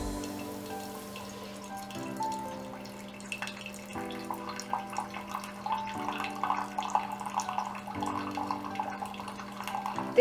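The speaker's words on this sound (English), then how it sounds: "And you see the coffee coming out." The built-in Keurig brewer on a GE French door refrigerator dispenses coffee with a thin trickling pour and faint drips over a steady background hum of machinery.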